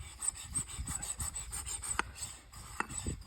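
An SU carburettor's surfaces are rubbed clean with Brasso in quick, rhythmic close-up scrubbing strokes, a soft rasping friction with a couple of small sharp clicks.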